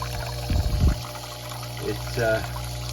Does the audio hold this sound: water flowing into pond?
yes